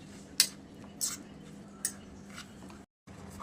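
Raw green mango pieces with turmeric and red chilli powder get mixed with a spoon, giving three distinct metallic clinks and scrapes against a dish over a quiet room hum, then a brief silence.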